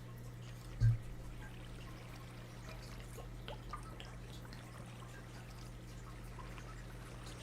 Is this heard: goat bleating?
no